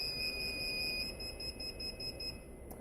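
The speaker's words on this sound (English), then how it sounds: "All that beeping is totally normal." A Lite Reader device gives a steady high-pitched electronic tone after being switched on, faint but continuous against a hissy background.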